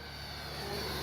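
A Freewing 80mm F-22 RC jet flies past with its landing gear down, giving a brief, steady whining roar of a ducted-fan engine, moderately loud with no voices.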